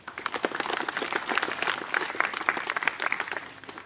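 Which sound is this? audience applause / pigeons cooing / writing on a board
audience applause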